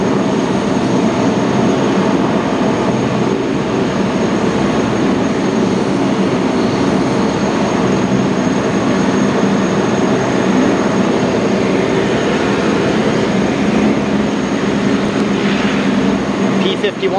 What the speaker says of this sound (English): Corsair is on the roll.